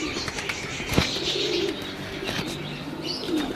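Jura pigeons cooing in a loft, low soft coos repeating under scattered chirps and a brief flutter near the middle, with steady background noise throughout.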